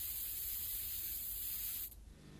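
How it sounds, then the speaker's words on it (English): A cheap spray paint can sprays in one steady, close hiss that cuts off near the end, leaving only a faint low rumble after it. "accomplished quite simply with a cheap can of spray paint"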